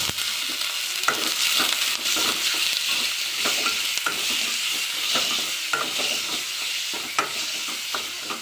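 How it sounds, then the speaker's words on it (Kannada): Chicken pieces fry for pepper chicken and are stirred in a pan, giving a loud, continuous sizzle cut by regular spatula scrapes and knocks through the whole stretch, with no talking. "ಚಿಕನ್ ಹಾಕ್ಕೊಂಡಿದ್ದೀನಿ."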